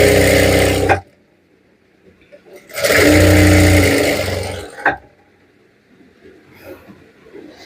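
A sewing machine stitches fabric pieces together in two loud, whirring bursts. The first lasts about a second and the second runs longer, with quiet pauses and faint handling noise between them.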